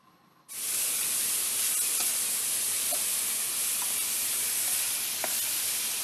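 Pasta being pre-cooked in a pan for a vegetable gratin bursts into a loud, steady sizzle and hiss as it is stirred, with faint scraping ticks under the close frying noise.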